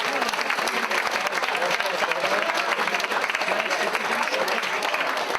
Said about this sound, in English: So please give yourselves a massive round of applause.